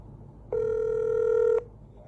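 A single long electronic phone ring tone, steady and close, lasting about a second while a call is placed on speakerphone, then cutting off into quiet.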